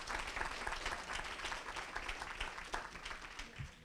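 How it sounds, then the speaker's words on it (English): Attendees at an annual membership meeting applaud the board of directors, a dense, continuous wash of clapping that sounds faint and distant throughout. "a little bit of a applause for them, please"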